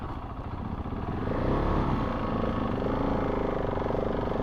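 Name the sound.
adventure motorcycle riding off-road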